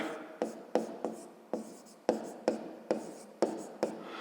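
A pen or pencil writes out a fifth-grade math problem solution on paper, producing close, soft scratching strokes in short bursts with brief pauses between, quiet and without speech.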